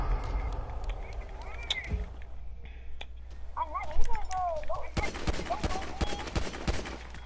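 Video game gunfire in rapid crackling bursts, dense toward the end, mixed with sharp snaps and game sounds while people talk over it.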